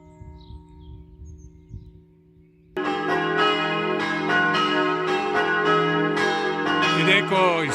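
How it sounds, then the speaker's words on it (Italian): Church bells of a large bell tower in Friuli, Italy begin ringing after a quiet moment with faint birdsong, then peal continuously and loudly with overlapping tones. "ecco il suono melodioso delle campane che ci invitano alla preghiera"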